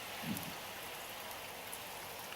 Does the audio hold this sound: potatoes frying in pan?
no